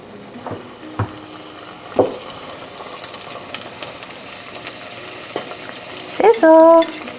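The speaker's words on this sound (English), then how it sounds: "Sizzle." Egg rolls, set seam side down into hot oil three at a time, give a low steady frying hiss with scattered pops and clicks, and a brief louder burst of sizzle near the end.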